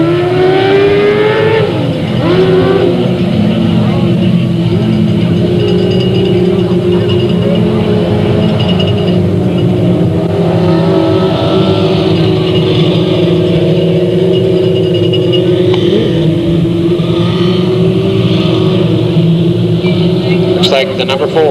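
600 class race cars run a heat race at Delta Speedway, several engines blending into a loud, continuous high-pitched roar that swells and fades as the pack circulates.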